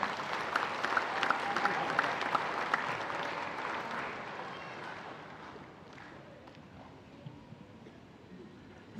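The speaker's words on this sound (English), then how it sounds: "Let's give her another big round of applause." Crowd applause at the closing ceremony of a FIBA U17 Women's Oceania basketball final in a large arena, steady clapping that fades away over several seconds, leaving a quiet, echoing hall.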